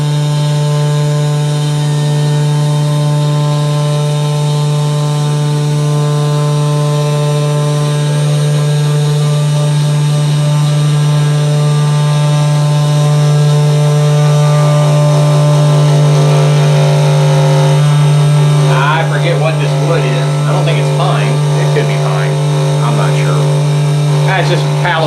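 A Genmitsu 4040 Pro CNC router cuts a circle into planed pallet wood, a steady loud motor hum and whine running throughout, with a rougher cutting texture joining near the end.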